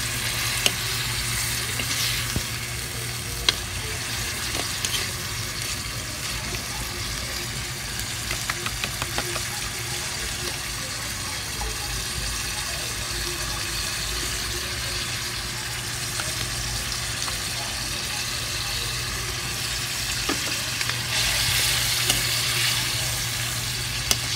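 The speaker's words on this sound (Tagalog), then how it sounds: "Haluin lang hanggang sa maluto yung kangkong." Kangkong fried with bagoong sizzles steadily in a pan while being stirred, a close, continuous hiss with occasional scraping and clinks.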